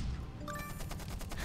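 Rapid gunfire from machine guns and a cannon tank in the stickman war game Stickman Trenches, a dense continuous rattle of shots with layered blasts and pinging tones, loud and steady with no speech.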